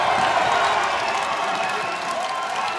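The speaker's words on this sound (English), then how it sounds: "They're still chanting Cuba" Cuban crowd at an amateur boxing quarter-final bout chanting "Cuba" in a big arena, a steady dense roar of massed voices with cheering that holds level throughout.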